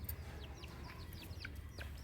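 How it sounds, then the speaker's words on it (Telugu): A hen broods on eggs inside a backyard chicken coop, giving soft clucks with faint chirps over a steady low rumble of background noise. "దాని లోపల ఒక కోడి గుడ్ల మీద పొదిగి ఉంది, చూడండి ఒకసారి."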